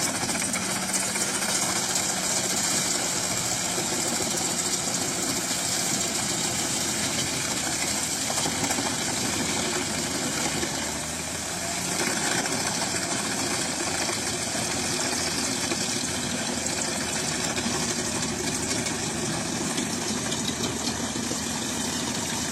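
A Claas Xerion 3800 Trac tractor engine powers a wood chipper in a forestry setting, giving a steady, loud, continuous mechanical drone with rough vibration and knocking texture, running without pause and with no talk.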